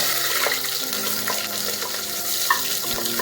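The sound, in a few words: chopped onion and green chili frying in hot oil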